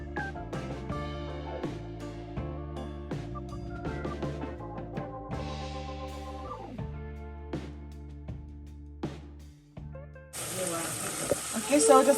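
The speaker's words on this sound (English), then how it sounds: "So I have my pot with some oil, and I'm just going to add the seasoning." Seasoning is dropped into a pot of hot oil for Jamaican plantain cups, giving a sudden loud sizzling burst near the end after a long stretch of background music.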